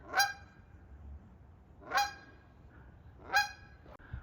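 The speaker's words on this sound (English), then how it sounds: "There's a goose on my van." A goose perched on a van honks three times at an even, unhurried pace, each call loud and nasal, with quiet in between and no voices.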